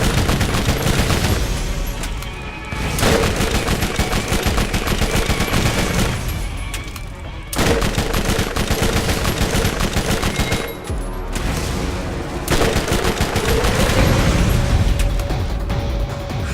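Dense gunfire from a revolver and an SMG in the video game Borderlands crackles loud and nonstop in rapid bursts, with short gaps between volleys and booming impacts mixed in.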